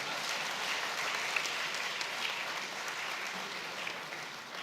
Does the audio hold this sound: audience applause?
yes